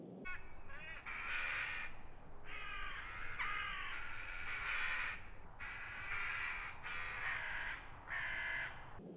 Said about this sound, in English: the birds have been going mental this morning